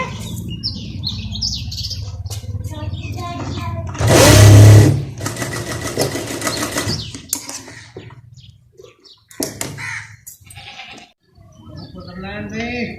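A sewing machine stitches the waistband of capri trousers in one loud burst of a second or so, then a softer stretch of running. Birds chirp and a voice talks around it.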